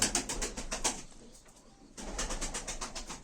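Turkish tumbler pigeons coo in repeated close, rhythmic throaty pulses, pausing briefly midway before the cooing resumes.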